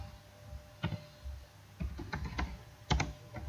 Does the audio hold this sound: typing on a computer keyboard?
yes